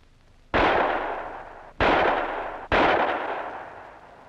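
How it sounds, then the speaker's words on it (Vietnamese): Three loud gunshots ring out during shooting practice in an old Vietnamese film, each sharp crack followed by a long decaying echo, spaced roughly a second apart. "Em bắn thử chị coi nhé."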